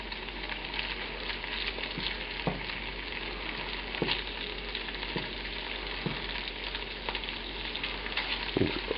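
Chicken pieces sizzle steadily in a pan over medium heat, a continuous close frying crackle with occasional sharper pops and light clicks, no talking.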